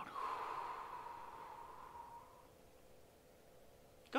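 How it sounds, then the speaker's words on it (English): A single slow, deep breath drawn in and let out in a calm guided-relaxation setting, a soft airy hiss that fades after about two seconds, followed by quiet room tone and a brief sharp noise at the very end. "take a deep breath in and a deep breath out"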